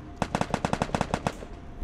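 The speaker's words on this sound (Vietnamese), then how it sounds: "Ui, bây giờ bắn nhau ghê vậy." Rapid bursts of automatic gunfire in the Garena Free Fire video game, about a dozen punchy shots in quick rhythm, loud and close, with no voice over them.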